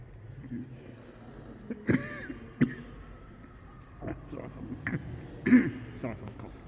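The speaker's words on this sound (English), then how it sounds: "Sorry if I'm coughing a lot." A person coughs and clears their throat several times in short sharp bursts, faint and close, with quiet murmuring voices and room noise between them at an indoor exhibition.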